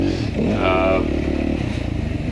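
A dirt bike engine revs and drones continuously through an enduro race, loud and close with a harmonic rise in pitch early on and rough mechanical clatter underneath.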